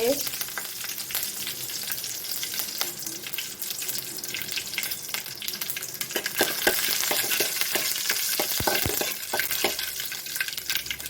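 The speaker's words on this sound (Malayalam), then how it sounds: "പൊട്ടി വരുമ്പോൾ കടു മുഴുവൻ പൊട്ടിത്തീരുമ്പോൾ" Mustard seeds crackle in hot oil in a pan for wheat upma, a continuous frying hiss dotted with sharp pops and small clicks that grow busier in the second half.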